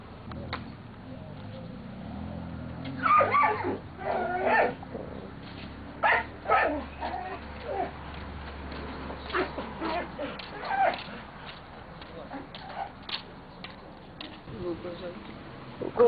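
A male dog in a village in the Saky district of Crimea whimpers and gives short yips and barks, close by and intermittent, with people talking to him over the sounds.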